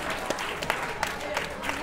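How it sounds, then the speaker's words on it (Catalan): A studio audience on a Catalan word-game show applauds an eliminated contestant, with steady, moderately loud clapping throughout. "nosaltres t'aplaudim"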